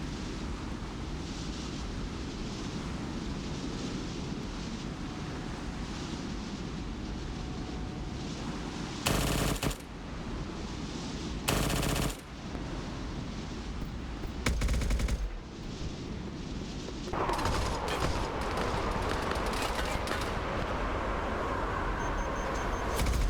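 Rapid pistol and gunfire bursts in a Mass Effect combat operation, crackling steadily for most of the stretch with a few louder sharp bangs mixed in, dense and continuous against a busy game background.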